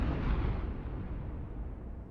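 An explosion in the video game Wuthering Waves: a loud, deep rumbling blast that starts abruptly and slowly decays, with no voices over it.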